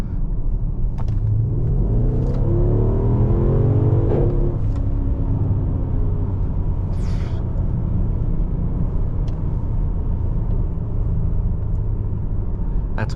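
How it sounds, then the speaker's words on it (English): A 2016 Mercedes-Benz GL 63 AMG SUV at full throttle, a loud continuous engine rumble and roar with rising harmonic sweeps early on, steady and close from the cabin, no voices. "Everybody floor it and see what happens."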